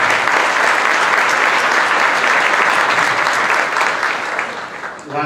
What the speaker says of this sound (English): if we can give a round of applause to the organizers of this conference